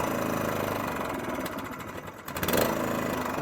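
A cylinder lawnmower engine with a fuel delivery problem runs steadily, then is pushed toward full throttle, wavering and stumbling before it surges back, heard close and fairly loud with no talk.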